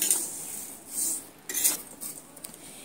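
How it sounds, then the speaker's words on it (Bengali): Vermicelli being stirred and fried in a pan over low heat, producing intermittent metallic scraping and clinking of a utensil against the pan in short bursts, fairly quiet and with no voices. "অল্প আঁচে দিয়ে এইভাবে নেড়ে চেড়ে একদম সুন্দর করে একটু ভেজে নিতে হবে।"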